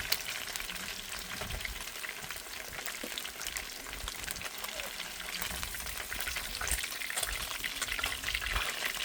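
Fish sizzles steadily in hot oil, a dense continuous crackle at close range with occasional stirring, no voices over it.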